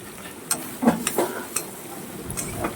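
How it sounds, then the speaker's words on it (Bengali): Meat and lentils are stirred in a pot, a spoon scraping and knocking against the metal in a few soft, irregular strokes over a quiet background hiss. "এটাকে ভালো করে এখন আমি নাড়াচাড়া দিয়ে নেব।"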